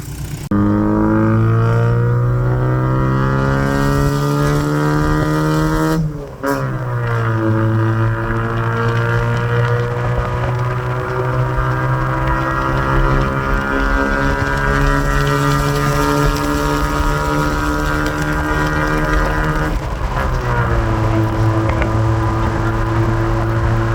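A VW Rabbit pickup's diesel engine roars close by, rolling coal, holding long sustained high revs. The pitch drops briefly twice as the throttle is let off and pressed again, with no voices.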